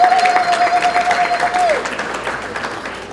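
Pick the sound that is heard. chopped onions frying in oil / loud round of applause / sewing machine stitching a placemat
loud round of applause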